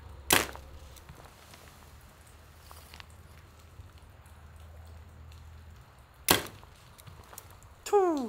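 Target arrows shot at 55 yards strike the target with sharp, loud thwacks, one early and another about six seconds later, the later arrows knocking into each other, with quiet outdoor background between the hits.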